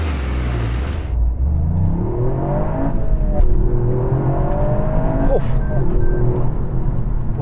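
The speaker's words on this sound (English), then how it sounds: "I'm going to see how quick this car is from 0 to 60 using my specialist timing gear, so I'm going to launch it." A Toyota GR Yaris with a three-cylinder turbo launching hard from a standstill toward 60 mph, with a loud, close engine roar rising in pitch, a brief shift break and a strong continued pull, with steady rumble and road noise underneath.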